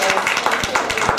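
Audience clapping for the panelists at a roundtable discussion of a novel, a short burst of steady, fairly close applause from a small crowd.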